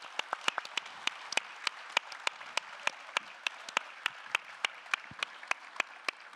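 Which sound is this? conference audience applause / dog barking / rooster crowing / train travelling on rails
conference audience applause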